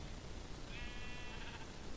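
A single Minecraft sheep bleats once, a short wavering baa lasting about a second, fairly faint over a low background hum.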